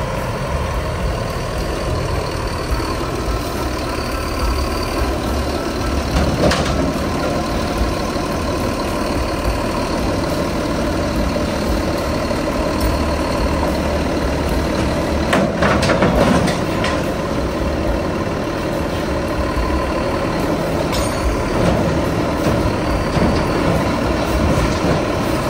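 Heavy diesel engine of a Mercedes-Benz OH1626 bus chassis rumbling steadily as it drives up onto a truck, a continuous low drone with occasional louder revving and clanks, no talk.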